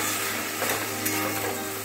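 Spices sizzling steadily in a hot pan with fried potatoes for a vegetarian soybean potato curry, a close, continuous fry with faint stirring and no talk.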